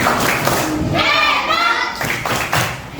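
A classroom group, mostly children, does the rhythmic tepuk hebat clap: close thuds and claps in a patterned beat, with voices chanting along in the middle.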